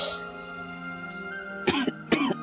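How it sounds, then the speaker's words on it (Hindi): A hum of voices and background tone, then two short, harsh coughs close by near the end. "खांसी हो रही ना तुम्हें?"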